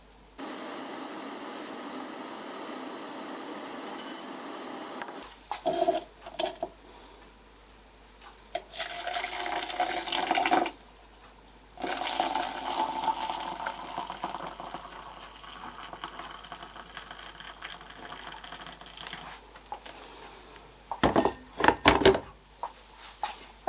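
Water pours and splashes in several bursts, with gurgling liquid sounds between quieter pauses, fairly close and moderately loud.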